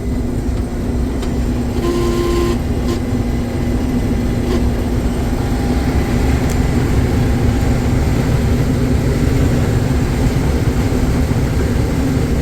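A combine harvester with a corn head engaged runs at full throttle in a corn field, giving a loud continuous mechanical drone and hum with a few brief clicks, close and steady, with no talk.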